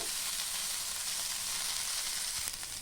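Long beans (alasanda) fry in a pan with a steady, even sizzle and crackle that stays close and continuous throughout, no voices over it.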